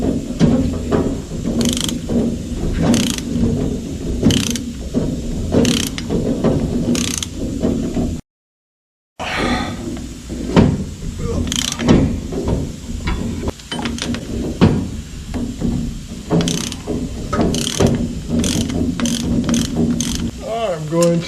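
A ratchet tightening an old nut during a rear gear install with positraction, repeated quick clicking ratchet strokes in bursts, close and metallic, with a brief silent gap partway through.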